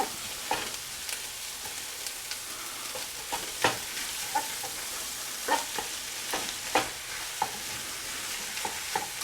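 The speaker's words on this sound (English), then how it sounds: "We're going to saute this." Shrimp étouffée base sautés in a pan with a constant crackling sizzle, while a spoon stirs and scrapes in irregular taps, near and even in level with no one speaking.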